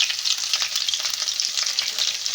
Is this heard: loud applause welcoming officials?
no